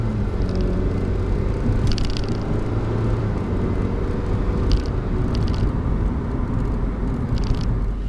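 A 2012 Kia Rio SX hatchback accelerates on the road, heard from inside as a steady low engine and road rumble with a few faint ticking sounds on top and no talking.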